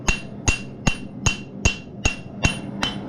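A blacksmith hammering hot metal flat while forging a small back scratcher: eight evenly spaced ringing blows close by, about two per second, each with a bright metallic ring.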